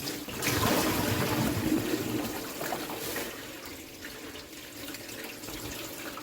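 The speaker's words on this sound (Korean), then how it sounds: "뜨거운 물 좀 받아 줘." Hot water runs from a tap into a kitchen sink during a drain unclogging job, a steady, fairly close rush of splashing water that continues through the whole stretch with no talking.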